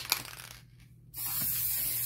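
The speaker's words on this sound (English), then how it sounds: "Going to put another spray of varnish on," An aerosol can sprays varnish onto a watercolor and napkin collage in a steady hiss that builds and holds loud after a brief pause, with a small click near the start.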